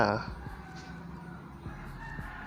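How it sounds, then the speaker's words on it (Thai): Chickens in the Mini World video game, a short burst of clucking at the start followed by soft repeated game thumps and faint clucks over a steady low background. "ไม่นะมีไก่ด้วย"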